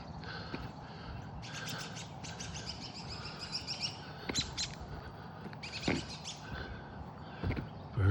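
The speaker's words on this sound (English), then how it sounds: "Birds" Birds chirp and tweet outdoors beside a walking path, with repeated bursts of bright calls through the clip over a steady background hum.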